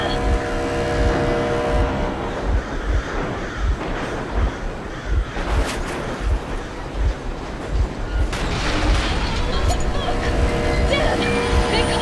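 A boat engine from the video game Metro Exodus runs as a continuous heavy rumble with a steady, rhythmic low chugging throughout. A voice is heard over it.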